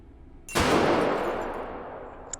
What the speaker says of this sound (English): Sounds a little more like an explosion